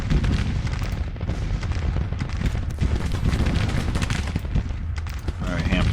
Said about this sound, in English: I'm a little worried about these guns, especially firing into Jull's flank right now.